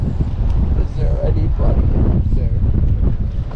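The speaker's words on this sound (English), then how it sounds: "That wind kicked up right as we got here." Strong wind blows across a lake during a cold-front fishing trip, roaring steadily and loudly against the microphone with low rumbling gusts, while people talk faintly underneath.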